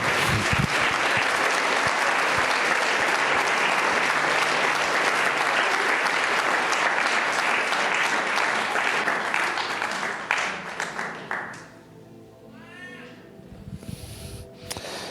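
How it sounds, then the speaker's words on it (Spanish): A church congregation claps for the Lord in a long, loud, steady burst that fades after about eleven seconds, leaving a voice speaking over quieter background. "Del aplauso al Señor"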